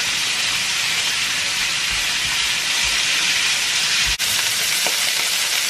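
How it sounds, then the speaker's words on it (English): Pork and Hokkien noodles sizzle loudly in a hot stir-fry pan, a dense continuous frying hiss with faint stirring clinks and one brief scrape, heard close and alone. "It's nice and sizzling. You can hear it sizzle away."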